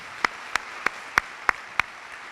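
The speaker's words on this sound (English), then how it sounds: "Can we get a round of applause?" Six sharp, evenly spaced claps at a White Coat Ceremony for a medical class, sounding like a sparse round from the audience, close and distinct against a quiet hall with faint room noise.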